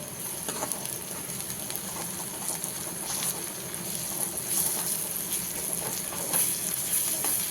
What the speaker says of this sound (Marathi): कांदा लसूण म्हणजे असं छान असं परतून घ्यायचं